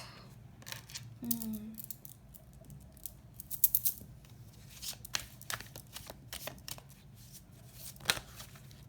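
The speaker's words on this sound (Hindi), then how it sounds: "I'll shuffle it again." Tarot cards shuffled by hand in a quiet room, giving a steady run of soft riffling, flicking and patting sounds, close and moderately quiet, with a faint voice briefly in the background.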